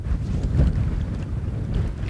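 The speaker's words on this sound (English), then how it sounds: "It's too windy anyway" Strong wind buffets a microphone outdoors by water in grizzly country, a constant low rumble with gusty swells and no voices.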